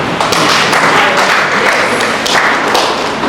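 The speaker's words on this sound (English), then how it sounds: "Can you clap for me?" A dense crowd claps loudly and continuously for a few seconds, a close, busy wash of hand claps in a hall.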